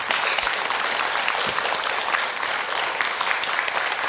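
Temple audience of Buddhist devotees breaking into sustained applause, a dense, loud, continuous wash of many hands clapping together at close range.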